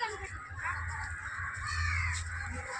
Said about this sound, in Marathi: खूप कावळे आहेत.